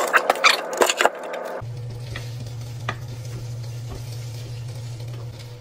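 Thawed frozen yakisoba frying on the highest burner setting, a steady close sizzle that takes over after a second of clattering and stirring, continuing evenly to the end.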